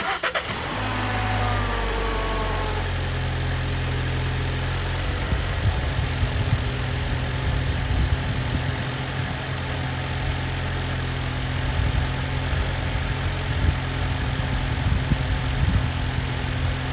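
A 2016 VW Passat engine cranks and catches after an oil change, then settles into a steady, close idle with a low rumbling drone and slight fluctuations, with no talking.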